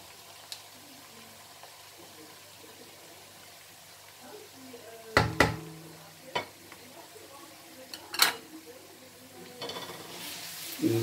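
Garlic going into softened onion frying in a pan, quiet sizzling with a few sharp clinks and clatters of utensils against the pan, under occasional speech.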